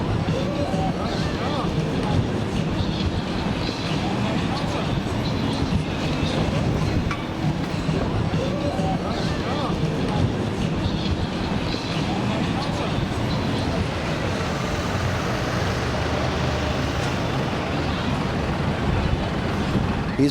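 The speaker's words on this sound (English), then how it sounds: "See that double-decker tram? That's known as a balloon, or a balloon tram" A Blackpool balloon double-decker tram, dating from 1934 and carrying about 90 passengers, rolls along its tracks on the Golden Mile, a steady near rumble with faint rail clatter, while voices talk over it.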